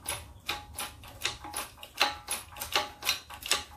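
A bushing is pressed into a rusty golf cart part, producing a series of evenly spaced clicking, ratcheting strokes, about two per second, fairly quiet and close with no talk.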